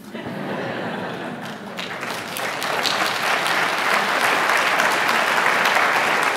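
Audience applause at a religious debate on tawhid versus the Trinity, a dense sustained clapping from a large crowd that swells and holds steady, with faint murmuring underneath.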